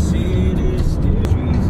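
A car drives along the road toward the Elliott Wave offices, heard from inside as a steady, loud rumble of engine and road noise with a few faint ticks.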